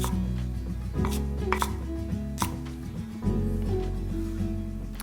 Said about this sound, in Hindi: मैं बीन्स को ना पतला पतला काट रहा हूं ताकि ज़्यादा मेहनत ना करनी पड़े